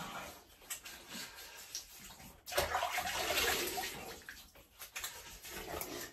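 Water splashes and sloshes at a sink as a man wets his two-day beard stubble before a shave, a continuous close splashing that swells louder midway, with no talking.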